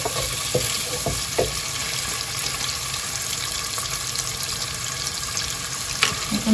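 Onions fry with salt in a pan, giving a steady close sizzle and crackle throughout with a few soft clicks of stirring, and nobody speaks.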